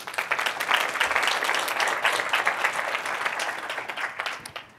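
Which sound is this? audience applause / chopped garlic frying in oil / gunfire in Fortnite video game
audience applause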